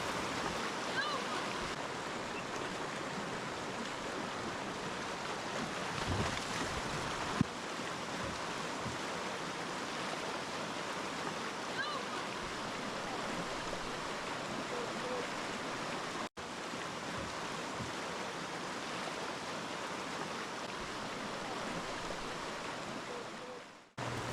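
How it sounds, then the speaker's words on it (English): Fast-moving water of the Verde River rapids in Arizona at low water level, a continuous broad rushing and gurgling wash that stays close and steady throughout. "Fast moving water, and all we have to do is steer the raft down the river."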